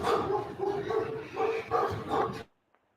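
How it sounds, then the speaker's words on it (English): Dogs bark repeatedly in a rough, uneven run of loud, close barks, stopping abruptly into near silence. "Dogs were having a little bit too much fun."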